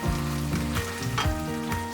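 Cooked pasta being tossed through a yuzu tea tomato sauce in a pan, giving a steady, close frying sizzle with soft stirring scrapes and clatter, no voices.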